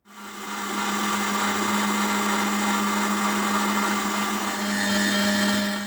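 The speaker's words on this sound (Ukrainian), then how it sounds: "І все це перекручуємо через м'ясорубку." Electric meat grinder mincing tomatoes, peppers, garlic and hot pepper for adjika, a steady loud motor whine with a strong low hum running continuously and alone.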